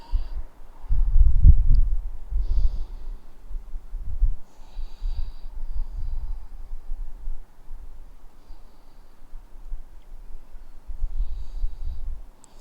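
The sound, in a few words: deep breathing during a seated forward fold stretch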